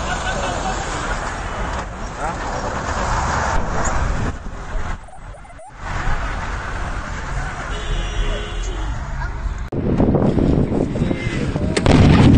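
Explosions boom at an ammunition depot in Arys, heavy blasts and rumbling roars over passing traffic noise, with people talking excitedly throughout.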